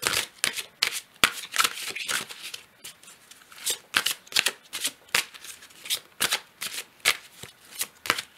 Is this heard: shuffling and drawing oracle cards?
yes